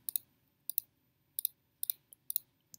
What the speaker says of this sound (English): So lots of clicking